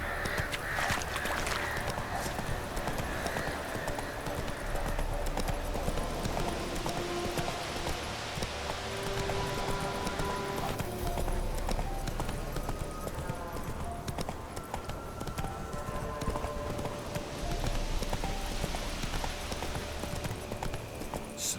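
Roach, a horse in The Witcher 3: Wild Hunt, gallops with continuous rhythmic clip-clop hoofbeats through the whole stretch, while crows caw in the background and faint mechanical gear-like noises surface.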